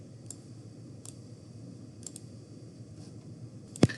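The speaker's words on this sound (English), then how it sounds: "So now go ahead and click and drag," A computer mouse giving a few sharp isolated clicks over a low background hum, spaced about a second apart, with one louder click near the end.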